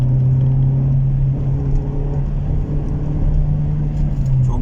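Toyota Corolla 1.6 Terra petrol engine pulling hard at full throttle while accelerating toward a traffic light, heard from inside as a steady, loud, droning hum that holds throughout.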